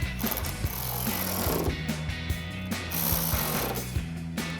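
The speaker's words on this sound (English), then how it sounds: "Take your 7mm socket, tighten those down." A 7mm socket wrench drives screws while a rear spoiler is fitted to a 2024-2025 Mustang GT, a loud, close run of rapid rattling mechanical clicks in a continuous stream.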